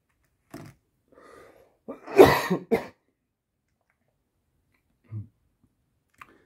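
A sick adult coughs and clears his throat in a quiet room, a cluster of rough, close coughs followed by a soft throat noise and a faint click, with nothing else audible.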